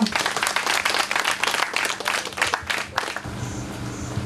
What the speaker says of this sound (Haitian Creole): On applaudit les enfants.